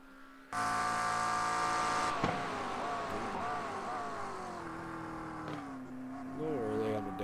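A race car engine in a racing video game, a GTP/GT3 series race, roars in abruptly, then its pitch sweeps down through a downshift and winds back up near the end, with a voice talking over it.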